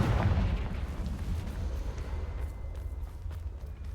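A Confringo blasting spell explodes in the Hogwarts Legacy game, a loud low boom at the start that decays into a long rumbling tail with crackling debris.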